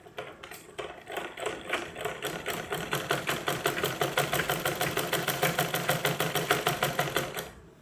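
A sewing machine stitches the opening of a small cloth pocket in a steady, fast rhythmic clatter that speeds up after a slow start, close and alone, then stops abruptly at the end.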